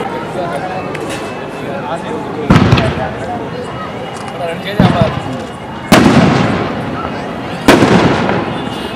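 Fireworks at a Gangaur festival celebration in Lakheri: four sharp, loud bursts a couple of seconds apart, each with a crackling tail, over a noisy crowd with people talking.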